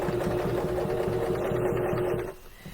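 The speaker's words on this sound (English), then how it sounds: "I'm going to stitch around the top, and this I'm going to do with about 1/8 of an inch seam allowance." A sewing machine stitches around the top of a small gift bag, a steady close mechanical whirr with rhythmic needle clatter that stops near the end.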